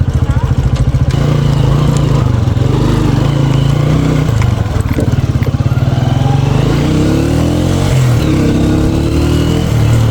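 A Honda CG 125 motorcycle ridden near a Jamuna river boat ghat, its single-cylinder engine loud and close with a steady throbbing drone, the pitch rising and falling as the rider works the throttle.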